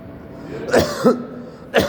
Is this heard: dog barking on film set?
no